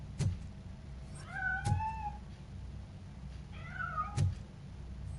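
A cat meows twice in the RoboCop Rogue City video game, two wavering cries a couple of seconds apart over a low background hum with a few sharp clicks.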